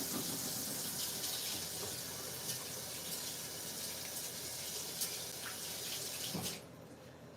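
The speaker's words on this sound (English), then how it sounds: "let me wash my hands again" Hands being washed under a steady stream of running tap water in a kitchen sink, a continuous close gush that cuts off near the end.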